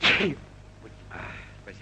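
A single sharp sneeze bursts out at the start, loud and close, followed by a short spoken reply, in a 1936 Soviet film.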